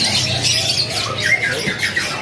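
Canaries chirping and trilling loudly nearby at a bird market stall, a busy mix of high calls overlapping with no pause.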